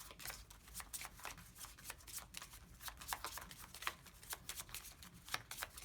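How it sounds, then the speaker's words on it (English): A deck of playing cards shuffled during a tabletop game playtest, with steady rapid riffling and flicking close up, quiet and without talk. "Each player will then shuffle the remaining suited set and randomly remove one additional card."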